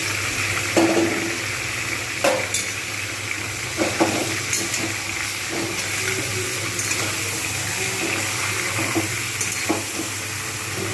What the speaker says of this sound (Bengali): এবার আমি এতে চিকেনগুলোকে কিন্তু ভালোভাবে ভেজে